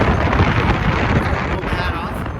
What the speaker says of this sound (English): The wind is kind of hard. She's blowing pretty good.